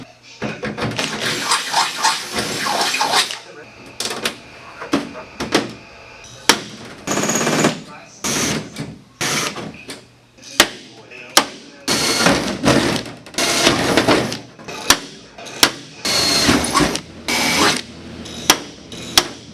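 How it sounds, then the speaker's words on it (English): Riveting and bolting diamond plate onto a snowmobile tunnel, with repeated loud, sharp bursts of rivet-gun and impact-tool action, close up and in irregular clusters with short pauses between. "let's go ahead and get that riveted / bolted in place"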